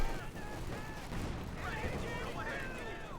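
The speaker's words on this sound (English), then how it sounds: "Another machine gun there for Kimbo, eine Maschinengewehr." Machine gun fire from the WWII strategy game Company of Heroes 2 rattles in quick, dense bursts, mixed with other battle noise under a continuous game soundscape.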